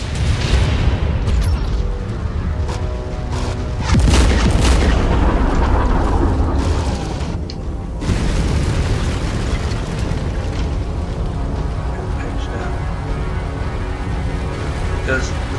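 Missile impacts and explosions in the mech combat game MechWarrior 5, heavy booming blasts over a dense rumbling battle bed, with a sharper burst around four seconds in and continuous loud action throughout.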